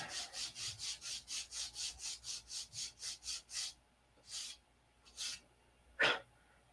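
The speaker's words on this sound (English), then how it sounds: "we are in the sanding phase now" Sandpaper scrubs rhythmically against the modified cowl of a P-47 model plane, about fifteen quick even back-and-forth strokes close up, then three slower separate rubs. No talking.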